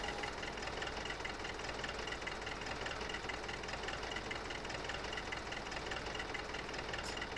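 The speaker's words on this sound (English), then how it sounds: "So we'll just jump on the tractor." Tractor engine in the video game Farming Simulator 2015 idles at a steady, continuous drone with a faint knocking texture, fairly quiet throughout and unaccompanied by speech.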